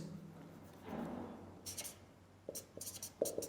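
Chalk or a marker scratches across a classroom board in a few short bursts and strokes, quiet and close, with no talk over the writing.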